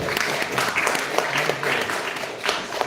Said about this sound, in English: Please give a big round of applause for His Grace Kumar Prabhu.